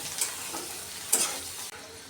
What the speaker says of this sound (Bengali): আমি সুন্দর করে শুটকিটা ভেজে নিলাম